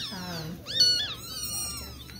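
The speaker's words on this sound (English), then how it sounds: "kittens" Bottle-fed kittens meow repeatedly, high, thin rising and falling cries close by, several overlapping calls in quick succession over a quiet background.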